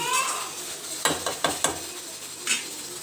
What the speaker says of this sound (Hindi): ये आप देख सकते हैं प्याज इस तरह से हमने ब्राउन करना है।